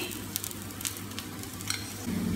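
Potato cutlets sizzle in oil on a pan with a steady, close frying hiss and scattered small pops, with no voices over it.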